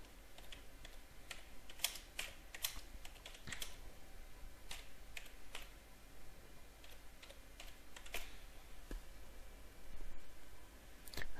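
Keys tapped on a computer keyboard at a Microsoft Server 2008 workstation, typing out a short line of text in irregular bursts of close, crisp clicks with brief pauses between, no voices.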